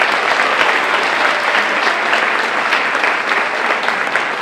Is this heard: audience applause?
yes